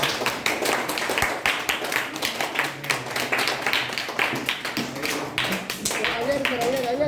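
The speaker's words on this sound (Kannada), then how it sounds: "ಚಪ್ಪಾಳೆ ಬರಲಿ." Audience at a college program in a hall clapping together, a steady dense patter of hands that fills the whole stretch, with a voice talking over it near the end.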